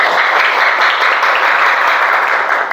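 Schoolchildren in a classroom clap together in a dense, loud burst of applause that holds steady for a few seconds, with no talking over it.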